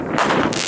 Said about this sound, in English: There's a fireworks!